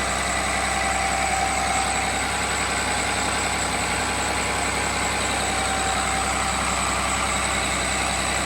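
A Cummins engine runs on a test stand at a lowered RPM, producing a loud, steady, unbroken drone with deep rumble and no variation or talking.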